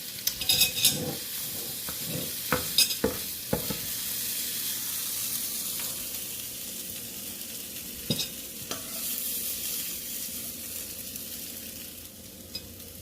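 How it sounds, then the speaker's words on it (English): Eggs fry steadily in a pan, browning as they cook, a continuous hiss broken by a few sharp clinks and scrapes of a utensil near the start and again around the middle. "I like pretty much frying my eggs, so I like some brown on them"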